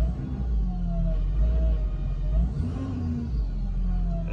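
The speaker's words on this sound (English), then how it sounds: "Hear the turbos." Diesel engine of a broken-down hotshot truck idling near a shop, steady low rumble with faint whining turbo tones rising and falling above it, continuous and close.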